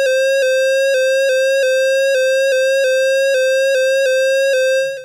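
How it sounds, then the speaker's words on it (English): An ARP Odyssey synthesizer tone whose pitch wobbles in a rapid repeating rhythm as VCO1 modulates VCO2 like an LFO, loud and bright with many harmonics, alone, fading at the end. "VCO1 is acting as an LFO on the pitch of VCO2"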